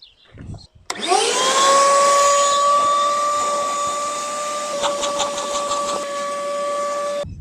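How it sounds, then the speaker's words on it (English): A vacuum cleaner runs on the boot carpet of an FG Falcon XR6, switching on abruptly and holding a loud, steady whine with a droning hum for several seconds, with brief rattling bursts partway through as the nozzle works the carpet. "I'm going to vacuum it and then scrub it and then wet vac it"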